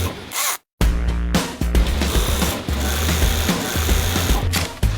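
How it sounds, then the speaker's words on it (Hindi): An industrial sewing machine in a jeans factory stitches denim pieces such as the fly, running loud and continuous with a fast mechanical chatter, broken by one brief stop before it starts again. "जीन्स के सभी हिस्सों को अलग से सिल के एंड में जोड़ा जाएगा।"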